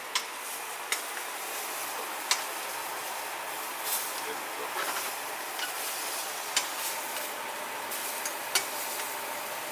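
Food searing in a hot pan gives a steady, even sizzle throughout, broken by a few sharp crackles and pops.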